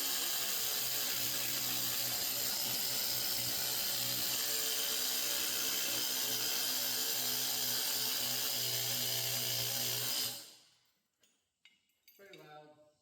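A new pneumatic needle scaler hammers over weld beads, a loud steady air-driven clatter running continuously for about ten seconds before cutting off abruptly, followed by faint handling noises.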